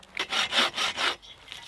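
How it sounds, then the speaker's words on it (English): A hand saw cuts through a rotten log base in steady back-and-forth strokes, about five rasping pulls in quick rhythm, close and clear, then stops. "So I'm going to have to saw this up because I don't need that base bit."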